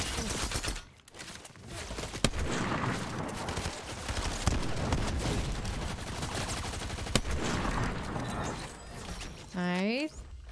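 Distant gunfire from a video game crackles in dense, steady bursts for most of the stretch, running beneath players' voices throughout.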